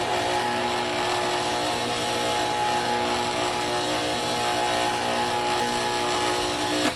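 An electric mixer whirs steadily through chocolate sourdough cupcake batter, a loud, close, continuous motor drone that holds unchanged before cutting off at the end.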